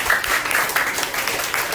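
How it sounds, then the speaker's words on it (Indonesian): Children clapping together in a school classroom session, a steady patter of many small hands at moderate loudness for a couple of seconds, with no voices over it. "Tepuk tangan dulu untuk kalian semua."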